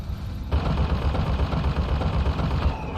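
Automatic gun turret fire in BioShock Infinite, a sudden loud burst that sets in after a short quiet lead-in and keeps up as rapid repeated shots for the rest of the moment.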